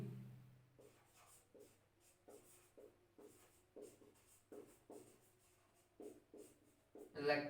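Chalk or marker scratching out letters on a board during a physics class, a series of short strokes in bursts, fairly faint, with quiet talking around it.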